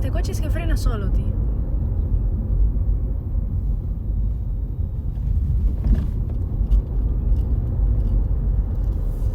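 A car drives along a road, heard from inside the cabin as a steady low engine and road rumble, with someone talking briefly at the start.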